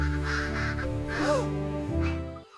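A flock of parrots squawks in several harsh, brief calls over a steady sustained tonal background, fairly quiet and ending abruptly.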